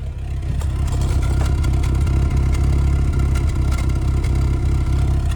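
A Dodge Omni engine running rough and sputtery as if misfiring, a steady close idle with irregular clattering pulses throughout and no talk.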